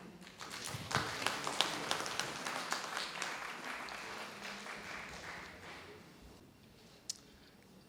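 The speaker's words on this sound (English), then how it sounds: "Let us welcome him with a clap" An audience at a university ruby jubilee celebration applauds to welcome the guest of honor, a founding professor. Steady, dense clapping fills most of the stretch and tapers off toward the end, with a last stray clap.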